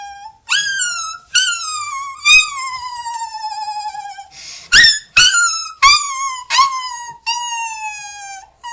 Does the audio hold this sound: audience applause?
no